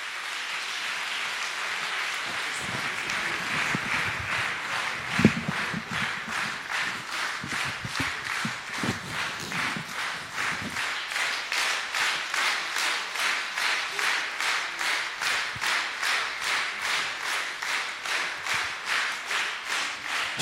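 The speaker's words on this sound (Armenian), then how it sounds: "Մեր սիրելի սաներիներ բարձր ծափահարենք։" An audience applauds at a students' concert with an Armenian folk-song ensemble orchestra. The clapping is sustained and fairly loud throughout, and it settles into a steady rhythmic unison beat in the second half.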